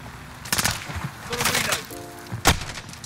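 Gunfire in the shooter Modern Warfare: several sharp, scattered shots crack out at irregular intervals over a low background rumble, with one strong report near the end. A voice is faintly present.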